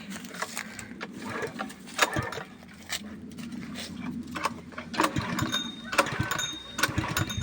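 A hand-started engine running in an older vehicle, a steady low rumbling idle with scattered knocks and clatter, heard fairly close with faint voices around it.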